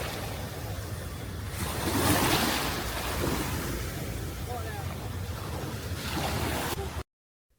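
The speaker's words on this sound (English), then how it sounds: "The ocean stretches endlessly in front of me" Ocean waves wash onto Krabi beach in Thailand, a broad surf hiss swelling and easing with gusts of wind buffeting the microphone, cutting off abruptly near the end.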